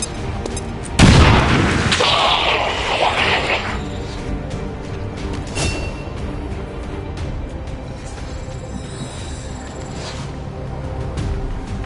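A grenade blows up in XCOM 2 with one loud, close blast and a ringing tail, followed by quieter clanks and background game noise.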